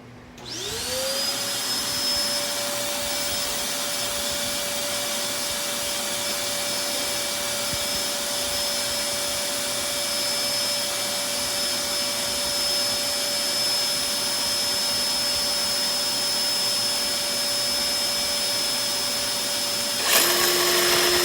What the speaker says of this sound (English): So let me turn the vacuum on.